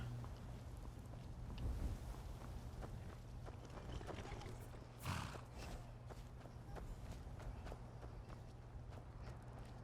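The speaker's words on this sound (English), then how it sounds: "I'm gonna get this motherfucking horse." Horse hooves in the video game Skyrim, a faint, light clip-clop of steps beneath a steady hum of background game ambience, with one brief louder swell midway.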